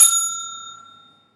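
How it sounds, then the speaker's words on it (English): A single bright bell strike rings out loud and close, then decays cleanly over about a second with nothing else around it. "I forgot always to ring the bell."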